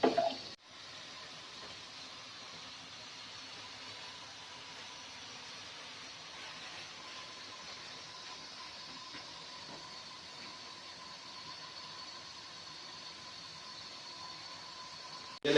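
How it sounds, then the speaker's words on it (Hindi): Something fries gently in a pan on a stove in a restaurant-style kitchen, giving a steady, soft, hissing sizzle that stays even and fairly faint with no talking. "इसको मैं थोड़ा सा ऐसे इसको फ्राई कर लूँ"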